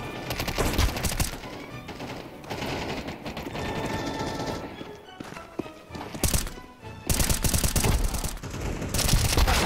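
Counter-Strike 2 gameplay carries rapid bursts of gunfire in a dense, loud, crackling barrage, with short gaps and renewed volleys, mixed with other game noise.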